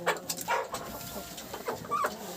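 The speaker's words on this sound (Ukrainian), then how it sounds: "Півник тут зве курочок." A rooster calls to his hens in a farmyard with short, repeated clucking notes, close by and fairly soft, with breezy outdoor background.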